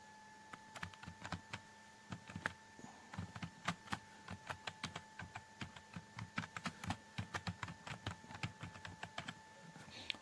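Text is typed on a computer keyboard in a quiet room, a steady stream of close, crisp key clicks at an uneven, quick rhythm with no talk.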